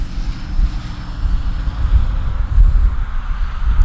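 Durafly Excalibur RC plane gliding in on a power-off landing approach, a soft low rushing of air and wind buffeting the microphone, steady and fairly loud with no motor whine.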